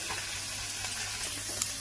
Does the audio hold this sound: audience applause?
no